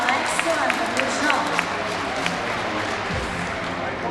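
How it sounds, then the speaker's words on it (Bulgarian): Audience applause at a dolphinarium show, a continuous spread of clapping across the seating with crowd murmur, moderately loud and even, with a low thump near the end. "И отново аплодисменти."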